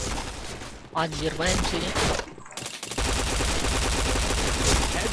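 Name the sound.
gunfire in the video game Point Blank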